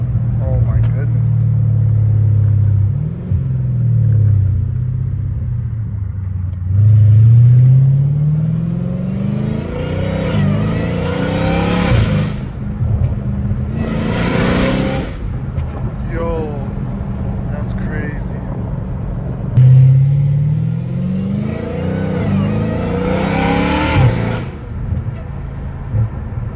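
A straight-piped Dodge Challenger Hellcat Redeye with loose exhaust bolts rumbles at close range, its deep exhaust note rising through several revving pulls and settling back to a loud idle. Brief broadband bursts and a metallic rattle come through as well.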